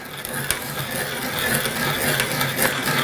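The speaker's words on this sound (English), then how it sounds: "Set that on there, and then this will then cut the tenon down." A hand-held tenon cutter is turned on a wooden workpiece to cut a tenon, making a close, steady scraping and rasping whir with a few sharp clicks.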